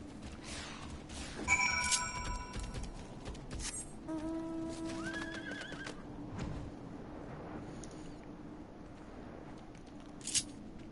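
A horse mount in Final Fantasy XIV gives a whinny and clip-clopping hooves, with chiming game effects layered over a soft ambient background.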